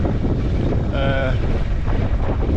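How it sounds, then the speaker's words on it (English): Steady wind buffets the microphone aboard a Westerly Centaur sailboat at sea, a low continuous rumble with water noise underneath, close and fairly loud, and a short tonal whine in the middle. "the wind is not too bad"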